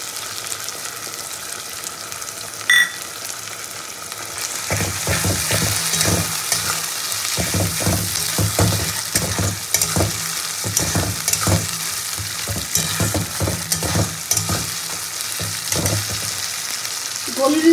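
Onion, garlic and ginger sauté in a pan, a constant sizzle broken by repeated scraping strokes of a spoon stirring the mixture, close and clear with no talk.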